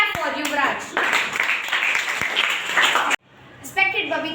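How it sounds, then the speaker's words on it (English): A classroom of students claps for a student speaker, a dense burst of applause lasting a few seconds that stops abruptly, followed by a voice beginning to speak. "Now clap for Yuvraj"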